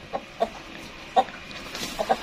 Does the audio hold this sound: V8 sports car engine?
no